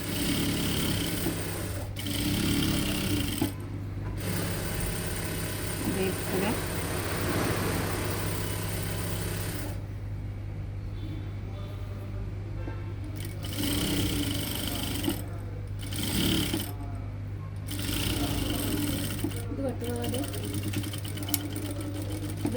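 A sewing machine stitches churidar fabric in several runs of mechanical whirring, pausing in between, over a constant low hum.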